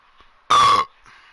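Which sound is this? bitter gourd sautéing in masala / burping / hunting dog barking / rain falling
burping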